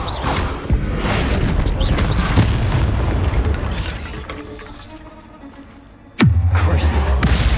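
A Bombarda spell blasts in Hogwarts Legacy, a loud rumbling explosion fading away, then a second sudden heavy boom near the end, with combat noise throughout.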